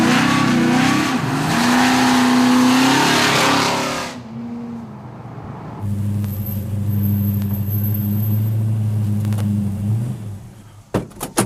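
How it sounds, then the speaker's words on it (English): A 426 Hemi Mopar V8 accelerates hard on a Pennsylvania back road, a loud rising roar that fades after about four seconds into a steadier, lower engine drone nearby before cutting off abruptly. "Cruising the back roads of Pennsylvania in a 426 Hemi."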